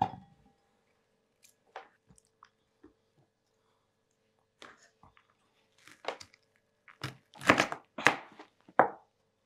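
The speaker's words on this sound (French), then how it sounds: "je vais vous découper le chou-fleur devant vous" A knife cuts a cauliflower into florets in quiet, sparse crunches and taps that grow into louder, closer snapping cuts toward the end.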